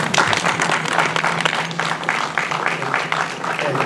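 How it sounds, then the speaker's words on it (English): Audience applause at a City of Dallas event honoring a councilman, with a full round of close, lively clapping that holds steady before slowly thinning out. "I want you to give a good applause for him."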